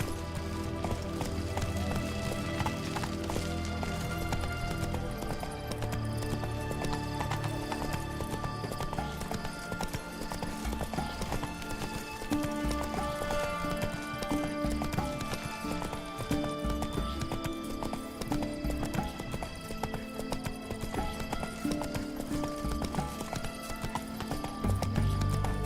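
Roach the horse galloping in The Witcher 3, rapid rhythmic hoofbeats pounding steadily and close throughout, an occasional whinny rising over game music.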